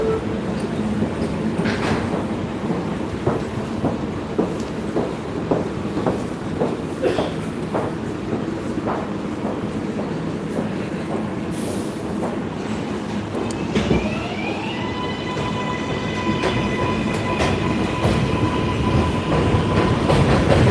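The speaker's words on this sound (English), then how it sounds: "Rushing Main Street bound 7 local train." A Main Street-bound NYC 7 local subway train passes close by near Queensboro Plaza with a loud, continuous rumble and rhythmic clickety-clack of wheels. Ringing, squealing metallic tones rise toward the end.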